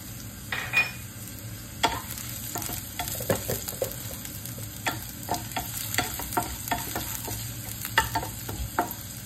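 Garlic sautéing in a pan for a spinach-and-egg dish crackles with a soft steady sizzle, punctuated by repeated scrapes and taps of a utensil stirring against the pan, close and without voices.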